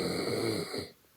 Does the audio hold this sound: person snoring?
yes